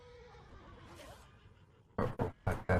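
Four loud neighs from a horse in World of Warcraft, played in quick succession near the end after a stretch of quiet game ambience.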